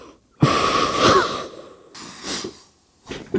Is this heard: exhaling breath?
yes